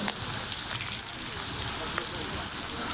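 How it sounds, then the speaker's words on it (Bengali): Heavy rain pours down over Dhaka, a dense, continuous wash of close drops drumming on surfaces, steady and fairly loud throughout with no distinct voices. "আজও দেখতে পাচ্ছি বেশ জোরে জোরেই বৃষ্টি হচ্ছে"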